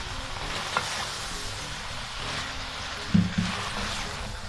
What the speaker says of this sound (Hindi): मेथी को मैंने मसाले के अंदर मिक्स कर दिया है।